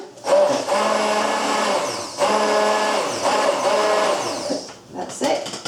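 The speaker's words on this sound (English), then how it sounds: "For now we're going to try the hand blender." A hand blender froths ceremonial cacao in a jug, its motor whirring in several bursts that rise and drop in pitch as the liquid churns, with short pauses between runs.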